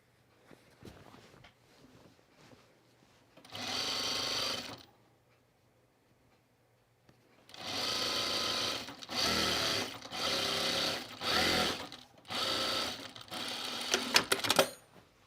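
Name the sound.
sewing machine sewing a seam of a pajama top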